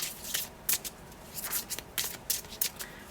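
Soul journey oracle cards are riffled and shuffled by hand, a series of soft, close papery bursts repeating in an uneven rhythm with no talking.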